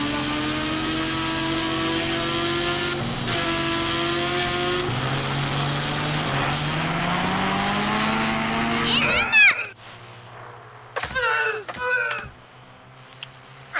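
A motorcycle engine in the Indian Bike Driving 3D game revs loudly and steadily, its pitch climbing and shifting, then cuts off into a few sharp skid-like bursts and quieter gaps.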